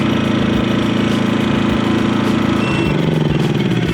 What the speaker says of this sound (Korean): 한번 시동을 건 이후엔 이런 식으로 편하게 스위치 하나로만 시동을 걸 수 있고